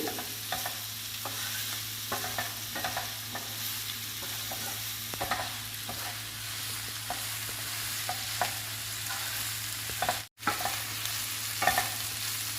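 Cluster bean curry frying in a pan with chili powder, a steady soft sizzle with frequent light scraping clicks of stirring throughout, heard alone at moderate distance.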